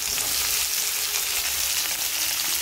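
Chopped onion frying in a hot kadhai, a dense, even sizzle heard close up and continuous throughout.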